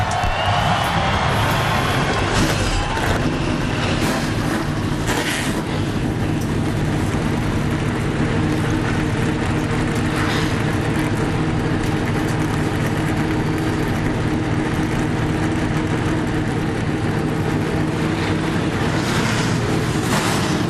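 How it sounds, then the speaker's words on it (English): Nationwide Series stock car engines firing up together at O'Reilly Raceway Park in Indianapolis, a dense, continuous roar of many engines with rumbling idle and revving, loud and unbroken throughout with crowd noise beneath. "The engines have fired"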